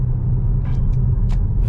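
A 2025 BMW X5 M Competition SUV cruising from the cabin with a steady low engine and road rumble and a slight kickdown push, faint clicks and rustles on top, no talking.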